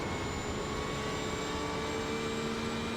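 A Porsche-engined GT race car in the World GT Championship at Road America, recorded onboard on a straight, gives a steady, loud engine drone with a constant high whine and no gaps.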